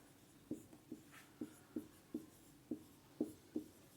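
A pen writing on paper in a Hindi-medium physics lesson, about eight soft, regular scratching strokes, close and quiet with no talking.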